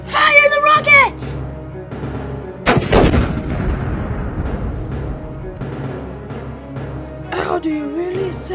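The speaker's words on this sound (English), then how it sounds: "Fire the rockets!" Loud rocket blasts in a fan-made toy movie, one big booming launch followed by a long rumbling decay, with excited character voices shouting before and after.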